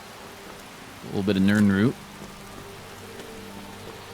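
Steady rain falls in the Skyrim Wildlander game world as a constant soft hiss that runs through the whole moment, and someone briefly speaks over it.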